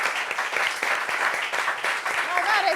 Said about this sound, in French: Applaudissements pour Carla